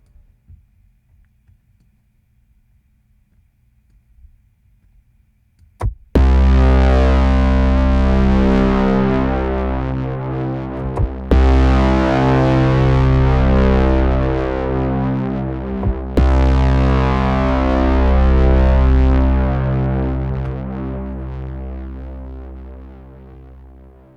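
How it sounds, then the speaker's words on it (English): A low, heavy braam-style synth note from the Vital synthesizer with distortion sounds after about six seconds of near silence. It rings thick and buzzing, is retriggered twice, and slowly fades. "Same thing with distortion."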